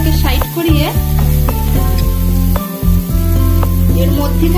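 Spices and soft tomato sizzle loudly and steadily in a hot pan while a spatula scrapes and pushes them aside, with repeated stirring strokes throughout.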